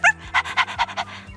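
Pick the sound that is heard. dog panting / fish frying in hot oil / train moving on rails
dog panting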